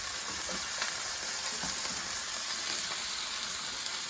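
Food sizzles and crackles steadily in a pan with olive oil and lemon juice, a soft continuous hiss dotted with small pops and light stirring, with no one talking.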